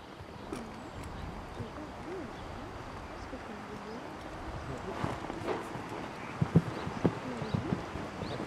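Horse hooves clop irregularly on the ground during cattle-working manoeuvres such as rollbacks, under steady outdoor noise, with a few sharper, louder hoof strikes near the end; a voice talks faintly.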